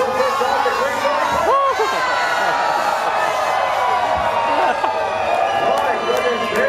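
An audience cheers at a lumberjack show aboard the Celebrity Infinity cruise to Alaska, a loud, steady crowd roar full of whoops and yells, with an announcer's voice cutting through.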